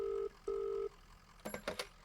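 An old-style telephone rings in two short electronic bursts, followed by a few clattering handling noises, faint and fairly close.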